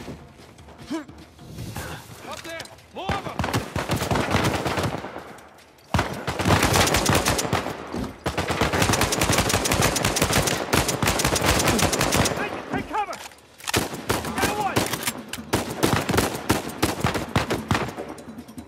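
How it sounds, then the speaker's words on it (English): Heavy gunfire in Uncharted 4 rattles in sustained automatic bursts and rapid volleys, loud and dense, broken by short lulls, while characters shout over the shooting. "Shit, Sam, sniper! Hold them!"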